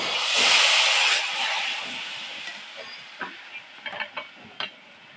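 Red chili powder sizzles and hisses in hot oil in a pan, loudest in the first second, then fading as a spoon stirs with a few distinct scrapes and clinks toward the end.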